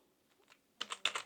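A computer keyboard on a Kali Linux machine as a sudo command is typed: quiet room, then a quick burst of several close, crisp keystrokes near the end.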